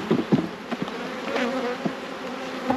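Honey bees shaken from a hive frame into a box while fixing a drone-laying queen colony, a dense close buzzing swarm with brief louder thumps and surges over a steady insect drone.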